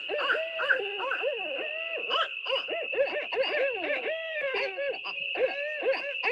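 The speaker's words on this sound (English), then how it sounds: "let me just quickly play the sound of the" A run of barred owl calls, hooting and cackling in looping, wavering tones, layered and continuous, with a steady high whine behind.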